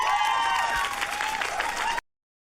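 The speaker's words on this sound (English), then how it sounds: "Why are y'all clapping and cheering like a bunch of dumbass drones?" Audience applause with some cheering at a live debate on systemic racism: a dense burst of many hands clapping for about two seconds, then cutting off abruptly to silence.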